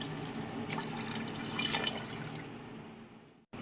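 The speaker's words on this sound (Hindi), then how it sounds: "अब इसके अंदर अंदाजे के हिसाब से पानी डाल देंगे" Water poured into a cooking pot of beef and rice for yakhni pulao, a steady splashing fill running for about three seconds, close and fairly loud, rising slightly midway before ending abruptly.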